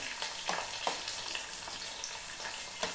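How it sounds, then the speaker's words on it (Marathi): Chopped onion frying in hot oil, a steady close sizzle with occasional stirring scrapes, heard alone without talk. "कांदा पण चांगला तेलामध्ये लालसर होईपर्यंत तळून घ्यायचा."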